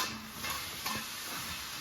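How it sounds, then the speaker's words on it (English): A spoon stirs baking soda into a pot of water for pretzel bites, with a steady close swishing and a couple of light scraping taps against the pot. "And stir that around."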